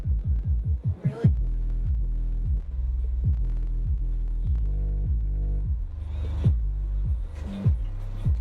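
Rockford Fosgate Punch P310D2 car subwoofer on a 1000-watt amplifier throbbing loudly with a steady run of deep, repeating bass pulses that shift pitch, close and continuous throughout.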